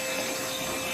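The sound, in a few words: Parkside cordless vacuum cleaner in blowing mode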